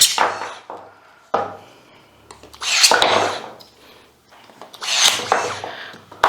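A Bosch Pro Pruner cordless pruning shear cutting crosswise through a knotted tree branch gives several loud, sharp snips and cracks of splitting wood, separated by brief pauses, close to the listener.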